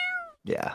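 A short, clear cat meow sounds as a Kickstarter pledge alert, a single tonal mew followed by a brief spoken word.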